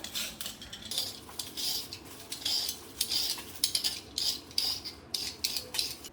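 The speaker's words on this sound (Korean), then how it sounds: "요즘에는 다 이 감자 깎는 칼로 다 깎거든요" Deodeok root being scraped with a potato peeler in a kitchen, a run of quick, rhythmic rasping strokes in short bursts, close up and fairly quiet with no talking.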